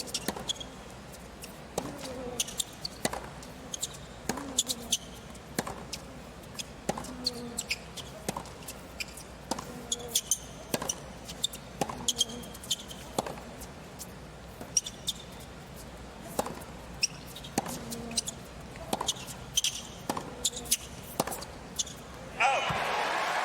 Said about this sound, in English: a lot of squeaky shoe noises there